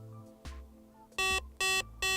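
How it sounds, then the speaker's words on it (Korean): A Tesla Model X 100D electric SUV sounds its falcon wing door obstruction alarm while someone stands beneath the door: three loud, close electronic beeps in a steady rhythm after a few faint mechanical clicks. "이게 경보가 울려서 밑에 사람이 있으니까 문을 닫으면 안 된다고 알려주긴 하네요"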